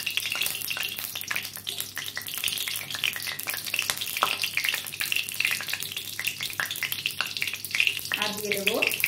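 Whole spices crackle and spit in hot oil in a curry pan, dense rapid popping and steady sizzling up close, with a brief voice near the end.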